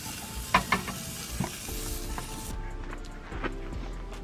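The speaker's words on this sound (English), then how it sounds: "So while our steak is cooking" A steak sizzling in a pan, a steady close fry hiss broken by a few sharp clanks and scrapes of utensils, moderate in level with no speech.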